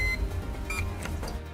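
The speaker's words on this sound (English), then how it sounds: "Pull and hold the trigger until you hear 2 beep sounds." Two short electronic beeps from a handheld retroreflectometer (922 model) measuring road-marking reflectivity, sounding as faint high tones over a low steady background hum.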